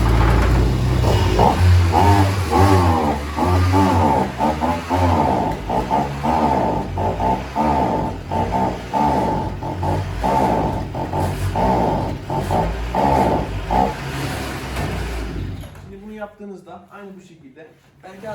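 A brush cutter (strimmer) engine runs loud and close with a fluttering, uneven idle that surges and dips in rhythmic pulses, then cuts out near the end, leaving someone talking alone.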